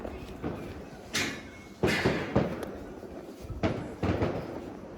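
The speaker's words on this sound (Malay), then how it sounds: "kita nak main mercun" Several sharp cracking firecracker bangs go off at irregular intervals around 1 a.m. during Hari Raya Aidilfitri, fairly near, with quieter background noise between them.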